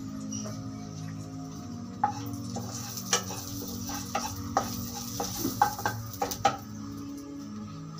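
Two green chillies hitting hot oil in a pan for paneer butter masala give a steady, close sizzle with scattered stirring clinks and scrapes over eight seconds, no voices.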